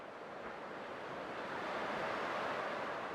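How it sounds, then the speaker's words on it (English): Ocean waves in the video game Honkai Star Rail, a steady broad wash of surf that swells slightly louder toward the end, heard alone without voices. "I can still clearly hear the sound of the waves."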